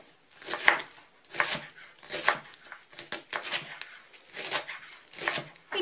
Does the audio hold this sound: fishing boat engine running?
no